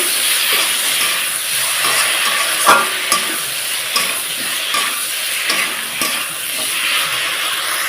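Spiced potato and eggplant masala stirred in a hot pan for a Bengali rohu fish curry, a steady loud sizzle and hiss with repeated scraping strokes of the spoon throughout.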